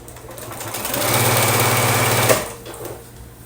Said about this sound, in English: this piece I'm going to flip over to sew